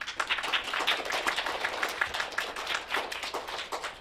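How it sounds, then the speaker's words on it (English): A small audience claps for spelling bee contestants at the end of a round, a soft, scattered patter of hands heard at a moderate distance, fairly quiet and steady throughout. "Give them a clap."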